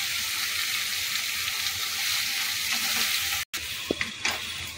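Spices sizzle steadily in hot oil in a pan while being stirred for a Bengali prawn curry with drumsticks, eggplant and potato; a dense, continuous frying hiss with a brief dropout near the end and a few clinks.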